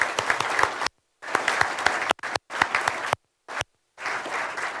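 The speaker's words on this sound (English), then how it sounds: "Can we please have another round of applause?" Audience applause after the New Plymouth mayoral debate in New Zealand, thanking the Taxpayers' Union; bursts of steady clapping broken by several abrupt silent gaps.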